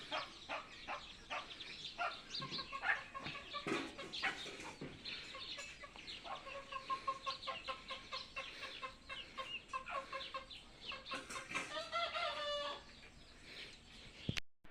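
Farmyard chickens cluck in repeated bursts at close to middle distance, with a rooster crowing among them and no talk.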